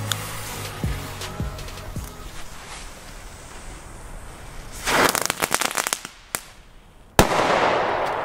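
The King 2.0 firework battery, with a crackling pre-burn effect, fires a few sharp reports followed by a dense, loud fizzing crackle. Two hard close bangs follow near the end.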